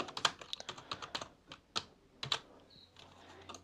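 Fingers type code on a computer keyboard during a Python programming session, producing close, crisp key clicks in irregular bursts with short pauses and no voices.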